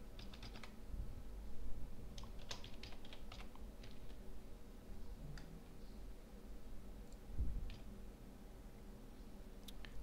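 Typing on a computer keyboard, light quick key clicks in short irregular bursts with pauses between, close but fairly quiet over a faint steady background hum.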